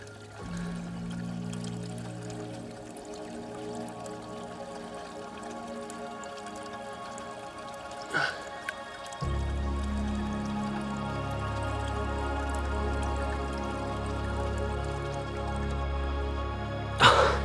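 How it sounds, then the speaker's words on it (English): A heavy silver George III half crown coin is rinsed in cold water outdoors, with faint trickling, pouring and dripping under a low background hum and a couple of brief knocks. "Into the water we go with the big silver George III half crown."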